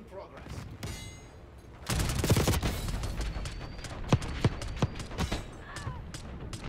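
Kompakt 92 submachine gun firing in Black Ops 6 multiplayer, with dense bursts of rapid automatic fire followed by several sharp, spaced shots, all close and loud and mixed with game ambience.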